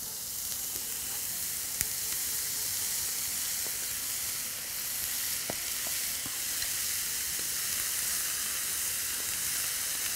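Chicken livers, washed well with lemon and salted, sizzle steadily in a hot pan, a constant close hiss of frying with a few faint clicks and no voices.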